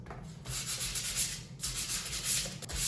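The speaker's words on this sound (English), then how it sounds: "I'm not going to go in straight lines because I don't want to create scratches on this." Steady, close rubbing and scrubbing on a brass candlestick with verdigris patina, a continuous abrasive hiss with brief pauses as the stroke changes direction.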